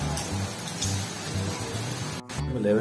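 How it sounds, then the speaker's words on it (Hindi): Steady rain hissing continuously at night during a power cut, with a low hum underneath and a brief dropout near the end. "इनफैक्ट कल से बारिश हो रही है,"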